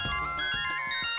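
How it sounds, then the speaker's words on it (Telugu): A mobile phone rings in a Telugu movie scene, a short melodic electronic ringtone with sustained tonal notes and a light repeating beat, heard clearly and alone. "అమ్మో, డాడీ ఫోన్ చేస్తున్నారు,"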